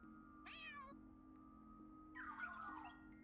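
A cat meows twice in the video game Trails Through Daybreak, a short plaintive call followed after a pause by a longer, drawn-out wail, fairly quiet over a steady low electronic hum.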